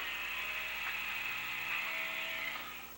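A screwdriver backs screws out of a 1993 Sega Genesis video game console, making a continuous quiet mechanical whirring and ratcheting that fades at the end, alone without speech.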